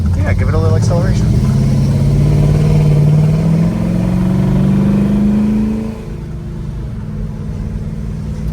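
Frame-off restored 1966 Pontiac GTO with a 389 V8 and three two-barrel carburetors, engine revving and accelerating with a rising throaty roar close by, then easing off to a lower rumble; people talk over it.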